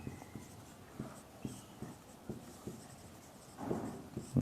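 Handwriting on paper with a pen makes a steady series of soft, close scratches and strokes in an even rhythm, with a brief rustle near the end and no speech.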